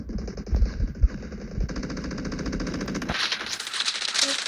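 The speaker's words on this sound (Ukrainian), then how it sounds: "Я не знаю навіть, куди я стріляю." Rapid automatic gunfire in a video game rattles continuously, loud and close, shifting into a harsher burst of noise near the end.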